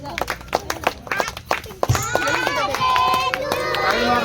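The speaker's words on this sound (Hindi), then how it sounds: "ताली मार थाओ" Children clap at a village birthday party, a quick run of sharp hand claps followed by a busier stretch of overlapping voices and bright clattering noise.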